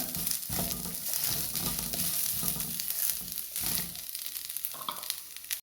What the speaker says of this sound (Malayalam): ചെറുതീലിട്ടിട്ടൊന്ന് മൂപ്പിച്ചെടുക്കാം മുളകൊന്ന് മൂത്ത് വരുമ്പോൾ ഞാൻ രണ്ട് ടീസ്പൂൺ തേങ്ങ ചിരകിയതും കൂടി ഇതിൻ്റെ കൂടെ ഒന്ന് മൂപ്പിച്ചെടുക്കാം